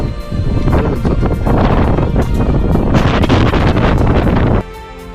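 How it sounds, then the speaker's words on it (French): Strong wind in Henningsvær, Norway, buffets the microphone in a loud, continuous roar with gusting surges, dropping off abruptly near the end. "il y a énormément de vent."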